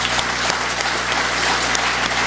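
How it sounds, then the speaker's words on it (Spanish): A theater audience at Teatro San Felipe breaks into loud, sustained applause, many hands clapping in a thick, continuous roar with a few sharper claps standing out. "Un aplauso para don Vicente."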